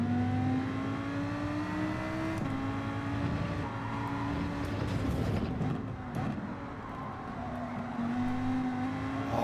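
A race car engine in the video game Gran Turismo 7 drones steadily at high revs with rising and falling pitch, loud and continuous throughout.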